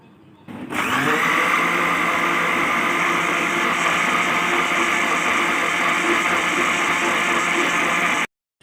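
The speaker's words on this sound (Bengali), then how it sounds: "ঠান্ডা পানি দিয়ে এখন আমি এটা ব্লেন্ড করে নিব" A kitchen blender runs loud and steady for about seven seconds, whirring through a fruit drink with mint, rock salt and cold water, then stops abruptly.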